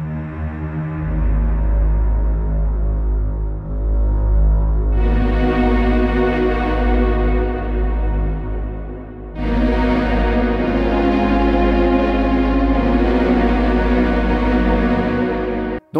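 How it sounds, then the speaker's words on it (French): Granular synthesis pad built from a rough sample, sent through delay and reverb: a loud, sustained, harmonically rich drone that swells and brightens twice, held steadily without pause for about sixteen seconds. "la synthèse granulaire sur la base d'un sample assez pourri, finalement, on va pouvoir faire une super nappe de malade comme celle-là"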